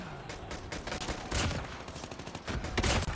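Close, loud MW11 pistol shots in Call of Duty Mobile, a quick string of sharp single taps and short bursts fired in an uneven rhythm.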